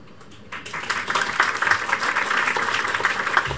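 An audience at a live concert at WALL&WALL breaks into applause, the clapping rising quickly from quiet and holding as a steady, moderately loud patter.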